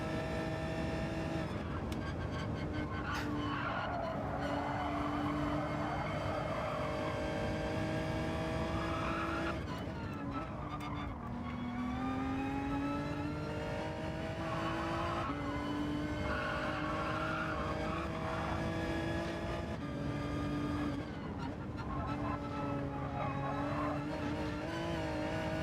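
Gran Turismo 7 GR3 race car at Michelin Raceway Road Atlanta working through a chicane, its engine droning with shifting pitch as the tires squeal and skid through corners, loud and continuous.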